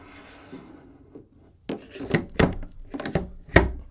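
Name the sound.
battery clicked into Canon R6 Mark II video rig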